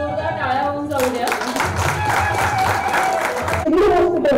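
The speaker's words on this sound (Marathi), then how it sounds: "जोरदार टाळ्या होऊन जाऊ द्या" Audience applause at an awards ceremony in Nashik, a crowd clapping steadily while music plays alongside, swelling louder near the end.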